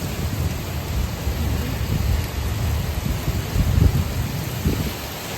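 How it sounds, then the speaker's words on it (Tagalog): Heavy rain pours steadily in a dense hiss, with low rumbles of thunder rolling underneath. "Yun ang ano Japan, biglaan ang ulan."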